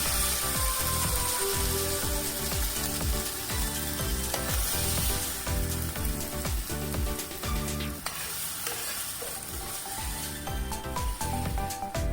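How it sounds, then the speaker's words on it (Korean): Soy-garlic sauce for chicken bulgogi sizzles and crackles loudly in a hot frying pan, cooking down until crisp, a continuous busy frying hiss with occasional stirring scrapes. "소스가 완전히 바삭하게 익혀질 정도로 익혀주셔야 됩니다."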